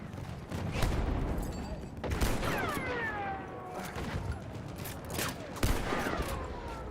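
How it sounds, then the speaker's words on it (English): Sharp, separate rifle shots of K bullets fired at a tank in Battlefield 1 crack out at intervals, with several loud reports and falling whistling tones, amid battlefield noise. "I can hit the tank with some K bullets."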